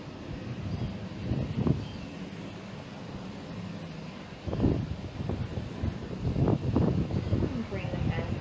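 Gusty wind buffets the microphone outdoors during a yoga session, a low rushing roar that swells in bursts, with faint voices underneath.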